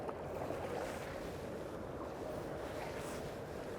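A FeelFree Dorado 125 pedal kayak moves across open water in a steady, continuous wash of water and wind noise, with no voices.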